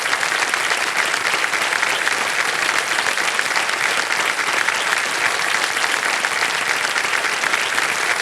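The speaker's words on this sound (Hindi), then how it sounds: "तालियां बज जाएं इनके लिए एक बार" Studio audience at a quiz show, sustained, loud, uniform applause from a large crowd filling the whole stretch without any voices over it.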